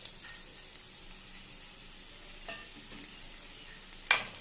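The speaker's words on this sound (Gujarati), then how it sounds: "હવે એમાં કેપ્સિકમ એડ કરીશું।" Capsicum sautéing with onion in a pan for masala oats gives a soft, steady sizzle, broken by a few faint stirring scrapes and a sharper clatter near the end, with no voices.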